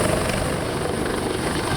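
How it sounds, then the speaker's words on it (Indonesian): An Indonesian Navy helicopter lands on the deck of a sailing ship in the Sunda Strait, its rotor and engine roar loud, close and continuous, with no talk. "memandu helikopter penerbal milik TNI AL untuk mendarat"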